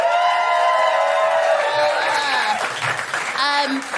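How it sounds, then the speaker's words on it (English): Applause and cheering from a stand-up comedy audience, a dense wash of clapping with whoops rising over it, while someone talks and laughs loudly over the crowd. "A round of applause for these guys!"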